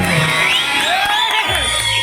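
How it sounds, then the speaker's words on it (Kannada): Children's crowd at a gathering in Shivapura cheering, whooping and shouting loudly, with overlapping whistle-like squeals and high yells filling a short, dense burst of noise. "ಮಕ್ಕಳು ನೀವು ಚಪ್ಪಾಳೆ ಹೊಡೆಯೋದು, ವಿಷಲ್ ಹೊಡೆಯೋದು, ಕೂಗಾಡೋದು"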